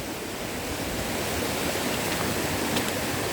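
Mountain stream rushing over rocks near Huai Chang waterfall in Pai, forest after rain; a steady, close broadband wash of flowing water with no pauses.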